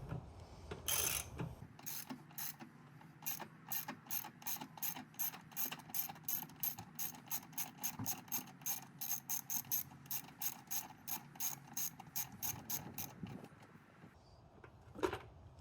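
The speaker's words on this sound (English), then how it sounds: "chuck that into the socket, and you'll be able to reach down there and just start loosening it" A socket wrench with an extension bar loosens a bolt while fitting a Mace cold air intake on a Holden Commodore VT, VX or VY, giving a long, steady run of quick ratchet clicks up close, with no one talking.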